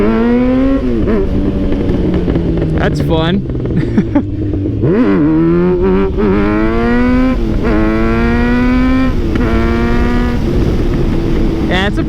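Kawasaki Z900RS motorcycle engine revving while riding, a smooth rising and falling harmonic drone through several gear pulls, steady and close with continuous wind noise.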